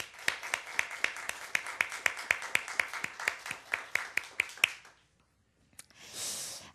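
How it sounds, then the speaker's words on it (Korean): Church congregation clapping together in steady rhythmic applause, a run of sharp evenly spaced claps that stops abruptly, followed by a brief rustle of breath or noise. "우리 다 같이 하나님 앞에 영광의 박수 한번 다시 읽어드릴까요?"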